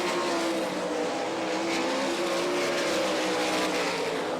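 World of Outlaws sprint cars scream around a dirt track during a night heat race at Rossburg, Ohio, engines wailing continuously at high pitch, loud and sustained with tyre noise mixed in.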